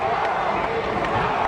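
A high school basketball crowd roars in a packed gym just after a slam dunk, a dense, loud wall of cheering held for the whole moment.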